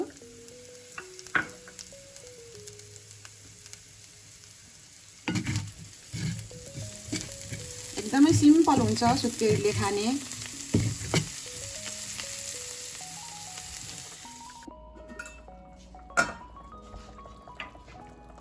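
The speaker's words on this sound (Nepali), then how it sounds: "अब म यसमा अलिकति धनिया र स्प्रिङ अनियन हालेर चलाएर म निकाल्छु" Chicken pieces frying in a pan with coriander and spring onion, a steady sizzle broken by scraping stirs and light clinks of a utensil against the pan, close by and fairly loud, with a short spoken remark.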